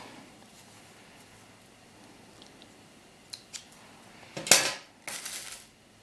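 Scissors snip through sheepskin for a doll vest sleeve, a few quiet clicks followed by two louder, close crunching cuts near the end in an otherwise quiet room.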